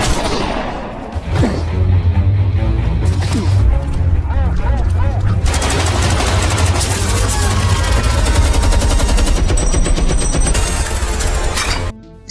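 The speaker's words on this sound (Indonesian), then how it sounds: "Tapi Tommy tak peduli dan malah menembak si sheriff." Intense gunfire in an action movie shootout as a man shoots a sheriff, with dense bursts of shots, crashes and booms filling the scene continuously, loud and close, with voices mixed in among the chaos.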